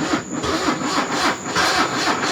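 A Porsche engine that has sat unused for five years cranks over on the starter, giving a steady, loud, pulsing churn of rhythmic compression beats without catching, close up and with no talking.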